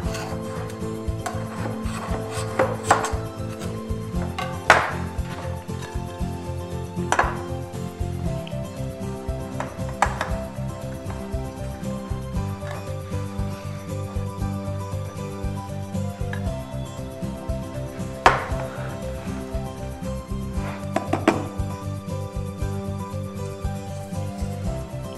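An eggless pineapple upside-down cake is loosened at the edges and moved onto a plate, with repeated rubbing and scraping strokes and a few sharp knocks, close and fairly loud, and no talking.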